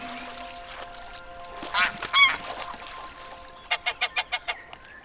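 Geese honking in Paris wildlife, with loud calls in the middle and then a quick run of six evenly spaced honks near the end, over a background of birds and ambient noise.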